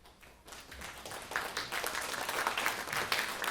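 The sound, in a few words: smattering of applause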